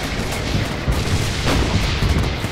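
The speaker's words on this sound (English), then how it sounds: "artillery is falling in the center" Artillery shells rain down and explode continuously in a Red October factory battle from a Soviet WWII video game, a dense rumbling barrage of overlapping booms and blasts, loud and sustained with no clear gaps.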